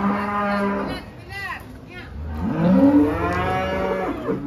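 Cattle moo loudly and repeatedly at a busy livestock market where animals are sold for Qurban sacrifice, with several long, overlapping calls from close by and others farther off.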